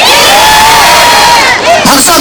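A dense outdoor crowd at a Korean local election campaign rally roars and cheers continuously, with shouted voices cutting through a loud, steady wash of noise.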